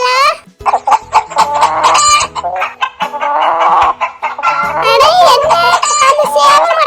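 Chickens and a rooster clucking close by, a busy run of sharp, overlapping clucks and squawks with brief pauses, loud and near throughout.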